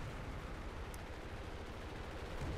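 Steady, dense gunfire from aircraft in the War Thunder combat game, a continuous loud rattle of rapid shots with no pauses, and no voices over it.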